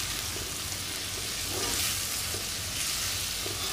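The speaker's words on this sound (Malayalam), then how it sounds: "തക്കാളി നന്നായി ഉള്ളിയായി മിക്സ് ആകുന്നിടം വരെ നമുക്ക് ഇളക്കി കൊടുക്കാം." Tomato and onion fry loudly in a pan while being stirred, a continuous close sizzle with scraping stir sounds running throughout.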